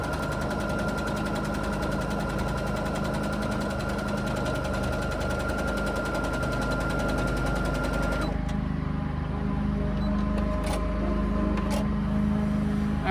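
A sewing machine stitches free-motion quilting in a steady, even motor whir with a continuous rhythmic hum, then cuts to a quieter idle near the end, with no talk.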